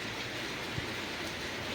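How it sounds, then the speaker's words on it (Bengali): Monsoon rain falling outside a window, heard from indoors as a steady, soft, even hiss that stays faint and unchanging throughout, with no voices. "দেখেছেন কেমন বৃষ্টি পড়ছে, দেখুন"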